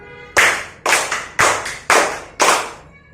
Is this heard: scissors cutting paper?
no